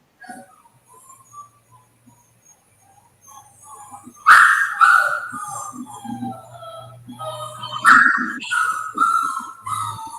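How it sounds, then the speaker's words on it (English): Several puppies bark and yip in high, excited bursts, near and loud, with whimpers between; faint voices murmur quietly at the start. "You hear the puppies, Paul?"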